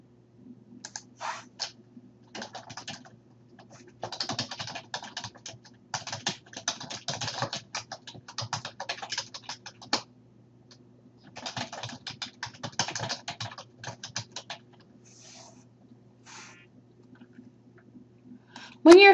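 Fingers type on a computer keyboard in quick, uneven runs of light clicks separated by short pauses, close and fairly quiet over a faint low hum.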